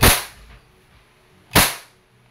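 Two sharp, loud air-pistol shots about a second and a half apart from a Crosman Phantom P10 non-blowback airgun, each a crisp crack with a short tail, fired close by.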